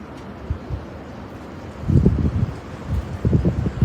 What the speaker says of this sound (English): Wind is not as strong right now